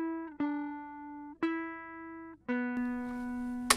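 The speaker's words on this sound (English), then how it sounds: "Here's what it sounds like clean tracked with no effects." Clean electric guitar with no effects, tracked for an 80s pop and disco style song: three sustained plucked notes, each struck and left ringing, close and clear with no other sounds.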